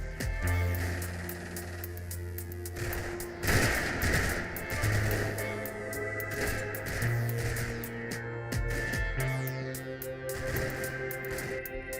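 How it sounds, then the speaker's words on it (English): Intense machine gun fire from British troops backed by a Bren gun carrier in the wartime strategy game Combat Mission Fortress Italy, with a steady run of sharp bursts and shots under low musical drones. "we are harassed by British troops supported by a Bren gun carrier, who are preventing further progress with intense machine gun fire"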